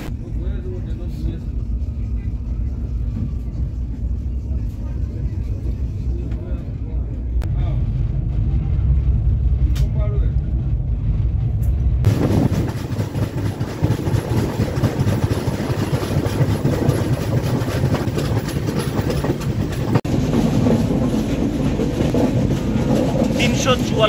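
The Tinsukia–Tambaram Express rumbles and idles as it starts to pull out of a station, with low engine drone and wagon clatter that swell into louder rolling noise, while people talk throughout.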